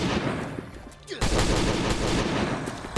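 SCAR rifle fire in the video game Last Day on Earth during a boss fight, dense rapid bursts of shots that build into a loud continuous barrage, close and harsh.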